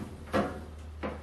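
Bottom drawer of a salvaged workbench sliding open and shut, two short wooden scrapes about two-thirds of a second apart over a low hum.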